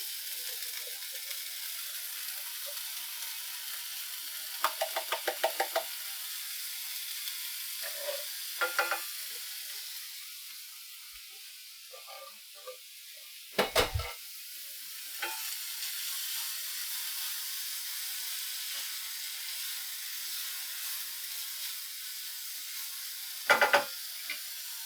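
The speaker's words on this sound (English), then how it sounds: "Our drained can of corn going in." Drained canned corn tipped into a hot pan, giving a soft steady sizzle throughout with a few brief scraping and clinking stirs, one sharper knock midway, fairly quiet and with no talking.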